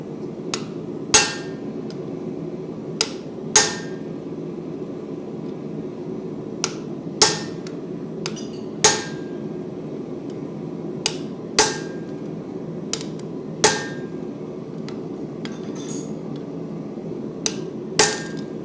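A hammer strikes a chisel cutting hot metal at a metalworking guild meeting: about a dozen sharp, ringing blows at uneven intervals, close and loud over a steady low background hum.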